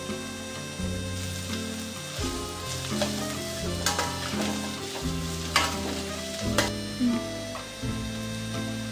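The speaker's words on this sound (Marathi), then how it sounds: "आता आपण 3 मिनिट ह्या भाज्या परतून घेणार आहोत" Mixed vegetables sauté in a pan for vegetable fried rice, a loud continuous sizzle carrying rhythmic clinks and scrapes of a stirring spoon, with a low steady hum running beneath.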